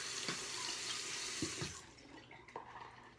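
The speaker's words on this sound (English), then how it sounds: "And rinse my toothbrush." A toothbrush is rinsed under a running bathroom tap, a steady stream of water that stops partway, followed by a few light drips and clicks.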